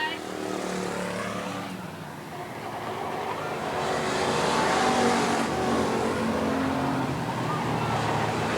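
Race cars roar around Eugene Speedway, led by the 55 Camaro. A broad engine roar swells and fades as the cars pass, loud and sustained, with a track announcer talking over it.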